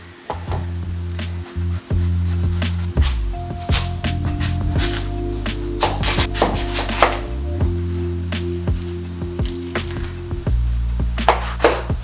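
A knife chops butternut squash on a board in a close series of loud, sharp cuts and thuds with irregular rhythm, plus a steady low hum running underneath throughout.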